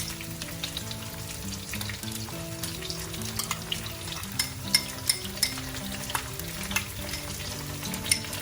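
Green curry paste frying in a pan over a low flame, a steady soft sizzle with light scraping and tapping as it is stirred, close and continuous, with no talk.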